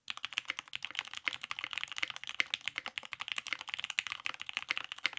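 A custom computer keyboard clatters under steady, fast typing, the crisp keystrokes close and even in rhythm throughout, with no voices.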